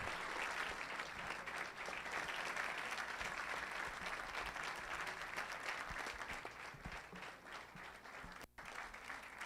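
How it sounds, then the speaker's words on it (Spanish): Sustained applause from an audience at a Mexican government ceremony for the IMSS-Bienestar health programme, a dense steady wash of many hands clapping that fades slightly near the end. "Un fuerte aplauso, enhorabuena y muchas felicidades."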